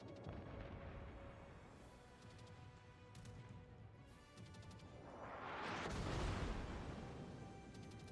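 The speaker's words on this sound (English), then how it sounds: "And here comes the torpedo strike." A torpedo strike in a naval battle game lands as a faint, swelling roar of explosions over steady low engine rumble and distant crackling, building and fading within a few seconds.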